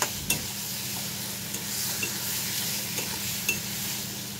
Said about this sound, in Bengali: মশলাটা একটু কষানো হলেই আমি সবজিগুলো দিয়ে আবার কষিয়ে নেব